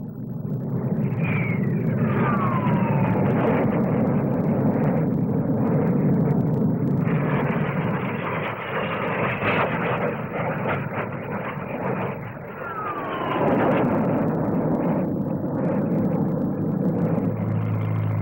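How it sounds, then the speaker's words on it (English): Loud continuous roar of a Vickers Armstrong Scimitar naval fighter bomber with two Rolls-Royce Avon turbojets passing at the 1957 Farnborough air show, with rising and falling whine, sustained throughout at close range. "Vickers Armstrong Scimitar single-seat naval fighter bomber with two Rolls-Royce Avon turbojet engines."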